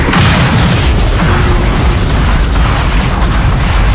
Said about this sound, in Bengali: নিমেষে ঘটল বিস্ফোরণ,